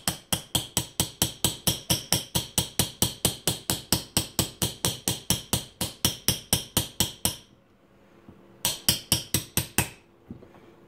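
A hammer drives a punch against the pins of an H&R Topper 188 shotgun in a fast, steady run of sharp metallic strikes, about four per second. A brief pause follows, then a shorter burst of blows, all loud and close.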